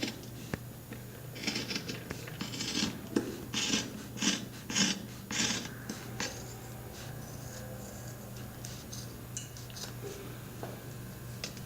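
Material being hand-cut at a half-inch mark, with a run of rasping cutting strokes close by in the middle stretch, then quieter handling noise.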